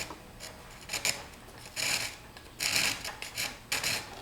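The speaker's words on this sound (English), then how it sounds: "here I am just beveling the ends of these cap strips that form up this rib here." Wooden cap strips on an aircraft wing rib are beveled at their ends by hand, giving soft rasping strokes in short bursts with pauses, close and quiet.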